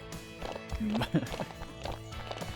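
A horse gallops in a horse riding video game: rhythmic hoof clip-clops with a brief whinny, heard under someone talking steadily.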